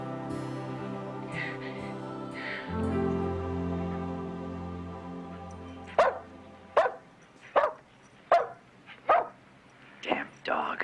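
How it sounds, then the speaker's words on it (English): A dog barks close and loud in a steady run of about seven sharp barks, following a stretch of sustained tonal sound that is probably music. "Damn dog."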